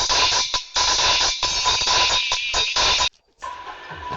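Music plays through a small Audio Life karaoke tweeter speaker, bright and somewhat thin, with steady busy sound cut by brief drops to near silence and a short pause near the end.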